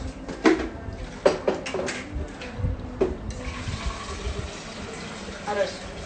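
Water is poured into a pot of rice while cooking yellow nasi kerabu with kaffir lime and pandan leaves, a splashing, gurgling fill with clinks, as voices talk over it.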